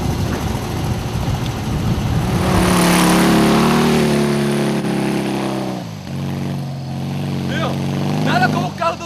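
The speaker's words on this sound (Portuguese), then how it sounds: "Nada como o carro dos outros pra acelerar." A car engine revs and accelerates loudly, its pitch climbing and then dropping as it pulls away, with excited shouting voices over it near the end.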